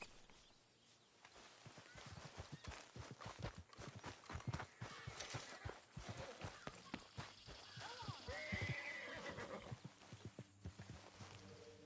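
Hooves clip-clopping and a horse snorting and whinnying in the Red Dead Redemption 2 video game, close and uneven footfalls with a short neigh near the end, and no talk over it.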